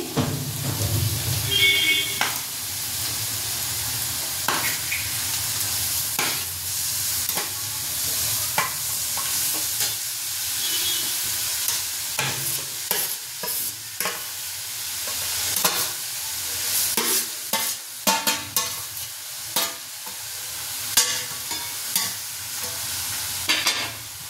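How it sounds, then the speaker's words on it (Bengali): Red amaranth greens tipped into reddened hot spices with turmeric sizzle steadily in the pan, a broad frying hiss punctuated by sharp clacks of stirring and scraping. "এবার মশলাটা লাল লাল হয়ে গেছে, শাকগুলো ঢেলে দেব। শাক ঢেলে দিচ্ছি।"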